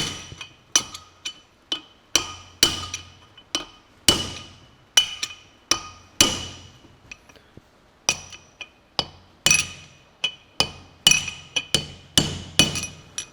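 Steady hammering of a tapered punch against John Deere 4WD tractor front hub bearings, a run of sharp metallic strikes spaced about half a second apart, close and ringing, each blow decaying quickly with no talking.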